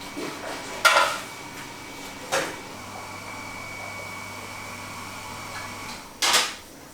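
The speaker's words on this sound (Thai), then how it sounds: "นำฝาหม้อมาปิดไว้นะครับ" A few sharp metallic clanks of a lid set on a pot of chicken stew, over a low steady hum.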